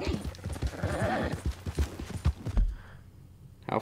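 Rhythmic hoofbeats of a galloping horse in the video game Red Dead Redemption 2 drum steadily, with a brief whinny, while a voice talks over them; the hooves fade out near the end.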